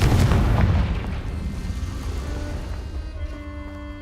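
A Confringo blasting spell detonates in Hogwarts Legacy, a loud close boom at the start that rolls off into a fading rumble with a faint ringing tail.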